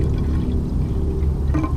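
A soft, steady sizzle of sauce crackles in a pan with faint scattered pops, quiet and continuous, no voices.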